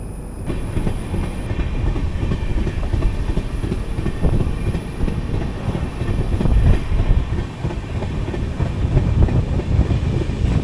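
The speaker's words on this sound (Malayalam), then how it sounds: "ജസ്റ്റ് പുറപ്പെടുന്നു. Main line ഡിപ്പാർച്ചറാണ്." The 16511 Kannur Express departs Bengaluru on the main line, heard from inside an AC 3-tier coach as a loud, steady rumble with rhythmic wheel clatter over rail joints.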